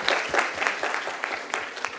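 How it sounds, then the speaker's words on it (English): Audience applause at a mentors' session event, a dense, steady patter of many hands clapping throughout, fairly close and full with no talk over it. "So a round of applause to each one of you"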